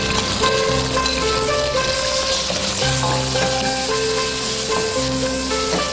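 Minced pork sizzles steadily in a hot pan with garlic, a continuous crackling hiss running beneath a backdrop of music.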